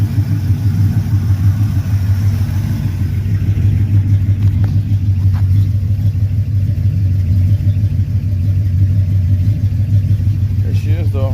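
A 1985 Oldsmobile Cutlass idling through freshly made straight pipes, a loud, steady low rumble that runs throughout with an even pulsing throb, close to the car, while someone talks over it.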